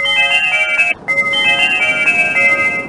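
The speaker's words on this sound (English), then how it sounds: "There's a bell." A bell rings in the PC game Clifford Musical Memory Games, with bright sustained chiming tones in two loud rings split by a brief pause and no voices over them.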